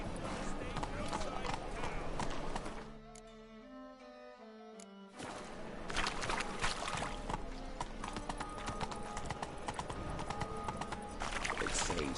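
Geralt's horse Roach gallops in The Witcher 3, with a steady, close clip-clop of hooves that drops out briefly midway beneath a tonal musical swell, then resumes under occasional speech.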